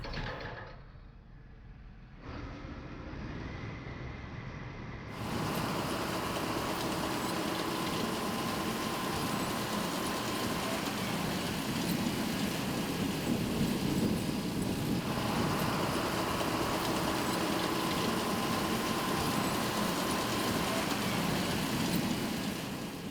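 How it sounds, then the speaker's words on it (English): Massey Ferguson RB round baler baling hay behind a tractor in a field, a steady loud mechanical drone of engine and machinery that kicks in after a quieter start and holds without pause. "The RB Series from Massey Ferguson. Serious baling has begun."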